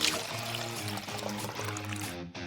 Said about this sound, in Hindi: पानी डालें और अच्छे से मिक्स करें